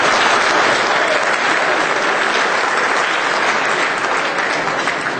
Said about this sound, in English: Please give yourselves a round of applause for all you do.